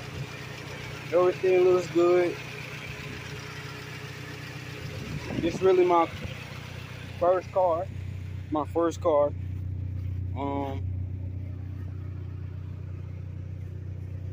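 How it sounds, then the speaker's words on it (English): A 1995 Honda Civic with a manual 5-speed idles under the open hood, a steady low engine drone running throughout while someone talks in short bursts over it. "The normal Honda engine."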